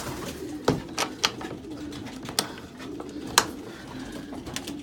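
Young racing pigeons coo softly inside loft boxes, a low, steady murmur broken by scattered sharp clicks and wing or perch taps nearby.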